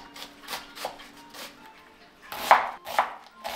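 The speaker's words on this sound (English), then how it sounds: "The first step is to chop your onions." A knife chops onions on a cutting board for spaghetti bolognese. Crisp, close taps come in an irregular rhythm, with a louder cluster of sharp chops toward the end and no talking.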